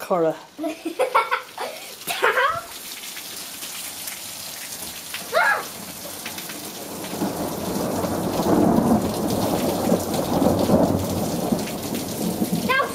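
A heavy downpour roars steadily, with a rumble of thunder; voices chatter and laugh early on before the rain swells louder and fills the scene.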